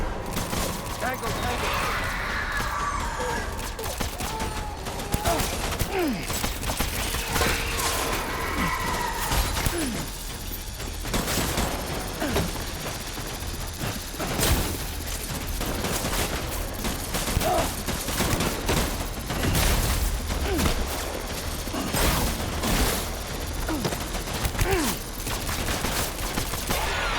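Bursts of gunfire crackle through a tense firefight in the video game Death Stranding, with dense rapid shots, impacts and shattering over a long stretch while voices talk over the action.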